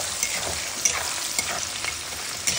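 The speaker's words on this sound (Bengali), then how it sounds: "পেঁয়াজটা একটু ভালো করে ফ্রাই করে নিতে হবে।" Chopped onion frying in a pan, a steady close sizzle with faint crackles and a few soft pops, no voices.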